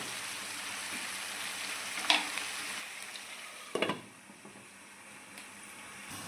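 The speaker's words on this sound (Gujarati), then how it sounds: "હવે આપણે આને સડવા દઈશું" Potato and bell pepper sabzi cooking in a pan: a faint, steady sizzle with a couple of brief clinks or stirring sounds, fairly quiet and close.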